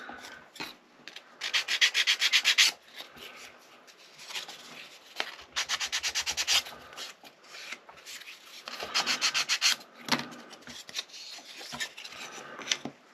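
Sanding the edge of a wooden book nook piece by hand, with close rapid bursts of rasping back-and-forth strokes in several rhythmic runs separated by brief pauses.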